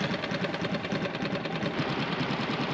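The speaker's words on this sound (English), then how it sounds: "So we're just going to run the engine at idle for a couple of minutes" A steady, low boat engine idle chugs evenly throughout, with a fast rhythmic knocking and no voices.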